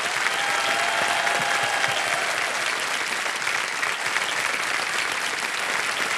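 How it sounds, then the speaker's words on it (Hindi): Studio audience on the KBC quiz show claps loudly and steadily after a contestant's win, a dense, sustained wall of applause with no voices over it. "और ताली बजती रहे"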